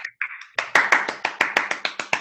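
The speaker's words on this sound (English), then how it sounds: "Round of applause, guys." Applause at a Halloween mystery event, a brief vocal sound and then a steady run of close, sharp claps from a small group, evenly paced.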